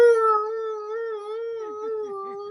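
A person imitates a wolf howl at an Indigenous concert show, a single sustained wavering tone that slides slightly lower and then trails off, clear and alone.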